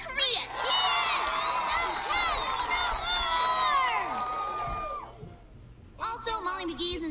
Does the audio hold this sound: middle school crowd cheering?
yes